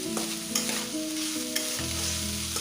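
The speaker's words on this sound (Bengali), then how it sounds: "এবার আমি থোড়টা ভালো করে একটু ভেজে নেব।" Sliced banana stem with slit green chilies fries in a pan with a steady sizzle, while a spatula stirs and scrapes it in short strokes.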